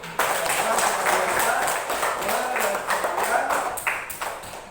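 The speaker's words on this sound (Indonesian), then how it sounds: "Nah, tepuk tangan dulu." Hand clapping from a class of children in a lesson, a series of sharp claps in a loose rhythm with voices mixed in.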